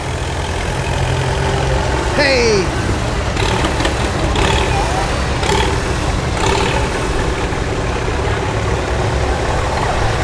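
A John Deere B tractor engine runs steadily at idle throughout, a loud continuous low chugging, with a brief shout from a person near the start.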